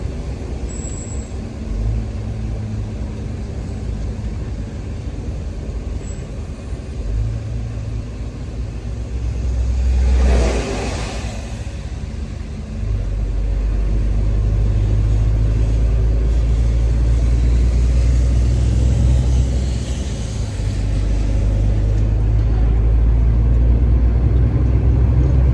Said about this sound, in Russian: Поливалка едет.